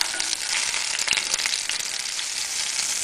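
A beef burger patty sizzles in a frying pan, a steady close hiss of frying fat with a few faint crackles throughout.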